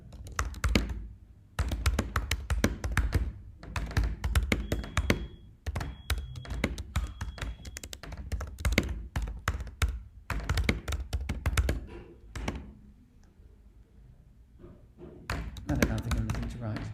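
Computer keyboard being typed on while writing code, rapid close taps and clacky thunks in uneven bursts with brief pauses between runs of keystrokes.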